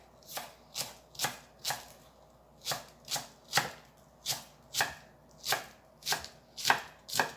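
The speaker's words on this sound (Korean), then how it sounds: "네, 파를 어서 썰고 청양고추도 어서 썰어 놓겠습니다." Green onion and cheongyang chili peppers being chopped on a board: a steady series of about fifteen crisp, evenly spaced knife strikes, close and clear with no talking.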